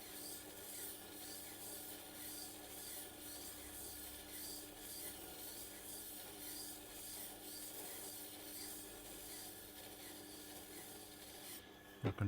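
A wood chisel is sharpened on a Tormek T8 wheel with a steady, continuous grinding rasp throughout. The sound is close, even and unbroken, ending with a couple of sharp knocks.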